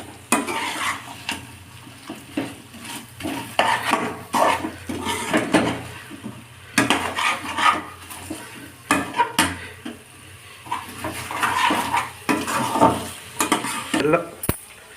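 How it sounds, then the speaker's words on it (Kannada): Fried cauliflower being stirred into masala for Gobi Manchurian, steady sizzling under repeated scraping and clinking of a spoon against the pan, close and continuous. "ಈಗ ಮಸಾಲೆಗೆ ಫ್ರೈ ಮಾಡಿರೋ ಗೋಬಿನ ಆ್ಯಡ್ ಮಾಡ್ಕೊಳ್ಳೋಣ. ಈಗ ನೀಟಾಗಿ ಮಿಕ್ಸ್ ಮಾಡೋಣ."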